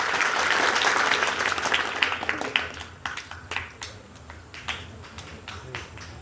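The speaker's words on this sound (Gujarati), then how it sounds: "જોરદાર તાળીઓથી ચેતરભાઈને યાદ કરી આપણે" Crowd at an outdoor political rally in a Gujarati village applauds loudly for Chetarbhai, a dense burst of clapping that thins into scattered individual claps over several seconds.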